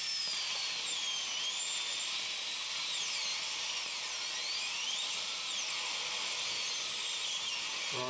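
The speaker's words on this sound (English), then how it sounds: "it will dramatically reduce the time necessary to drill through this hard material" A high-pitched dental bur whines steadily and continuously, its pitch wavering slightly as it drills through hard zirconia, close up with no talking.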